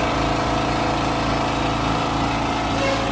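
A Delco generator engine runs steadily at close range, a loud continuous droning hum with a rough, even pulse throughout and no voices.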